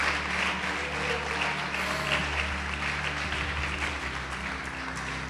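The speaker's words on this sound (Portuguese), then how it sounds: "Pode aplaudir e glorificar o Senhor Jesus" A church congregation applauds steadily throughout, a dense wash of many hands clapping with faint voices mixed in.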